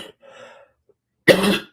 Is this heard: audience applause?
no